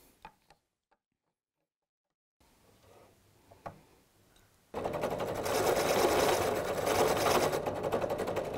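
A 3/4 inch paddle bit drilling into a mounting plate for a T-nut, loud and steady for several seconds after a few quiet taps and handling sounds.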